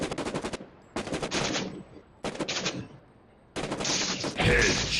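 Bursts of automatic gunfire in the shooter video game ROS, four rapid volleys separated by short pauses, loud and close, with the last burst louder and more echoing.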